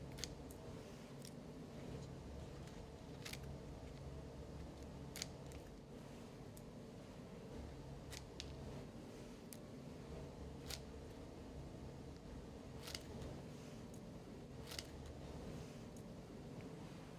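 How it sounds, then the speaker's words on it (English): Scissors snip a leaf into small pieces for a leaf extract, giving sharp, faint, close cutting clicks at uneven intervals over a quiet background hiss. "a leaf is first cut up into small pieces using scissors"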